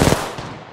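Gunfire in the mobile version of Apex Legends, a loud, close burst of rapid shots that quickly fades, followed by another shot at the very end.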